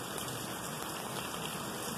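Rain falls steadily during the first November rain in Lake Elsinore, California, a dense, even hiss of drops on surfaces that continues unbroken and alone.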